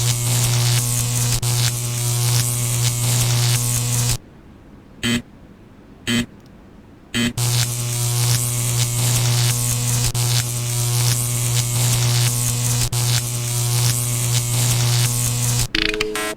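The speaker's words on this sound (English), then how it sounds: "These are electric doors." Electric doors in the video game Technoshock give off a loud, steady electrical buzz with a strong low hum. It runs alone and continuously, drops out briefly for a few seconds mid-way, then resumes and cuts off near the end.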